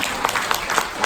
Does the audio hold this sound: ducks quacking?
no